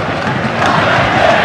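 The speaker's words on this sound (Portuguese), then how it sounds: "A torcida do Santos fica animada na Vila Belmiro" Santos supporters roar in a steady crowd wash at Vila Belmiro stadium during a 2009 Brazilian league match against São Paulo, loud and continuous, swelling slightly partway through.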